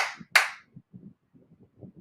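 A pair of sharp hand claps, loud and close, followed by faint low murmuring.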